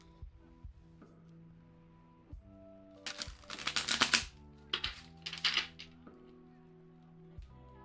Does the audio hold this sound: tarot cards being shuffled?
yes